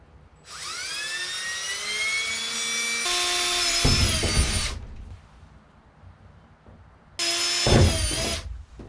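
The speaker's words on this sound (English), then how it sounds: "I just drilled my 2 pilot holes on my center line, top and bottom" A power drill boring pilot holes through a cargo trailer wall beside an aluminum panel and window frame: a rising whine spins up, holds, bites in with rougher grinding, stops, then one shorter burst, loud and close with no talk.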